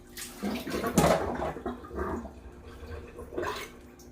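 Water splashes and trickles in a few bursts as fabric is squeezed out over a bowl, close and fairly loud.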